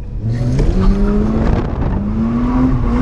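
Mazda RX8 drifting on a practice run with heavy throttle and clutch kicks: a loud, close engine drone under a sustained tire squeal that rises in pitch as the car slides.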